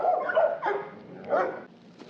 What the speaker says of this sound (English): Fucking dogs.